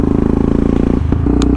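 A freshly rebuilt motorcycle engine runs close to the microphone, idling loudly with a steady, fast pulsing rhythm and a short dip in the sound partway through.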